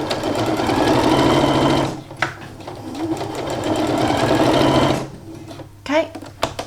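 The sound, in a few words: sewing machine top stitching a bag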